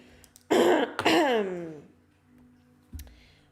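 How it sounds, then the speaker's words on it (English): A throat clearing followed by a harsh cough, close and loud, then a brief quieter cough after a pause. "with all the coughing"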